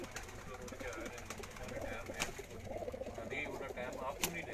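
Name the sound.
pigeons cooing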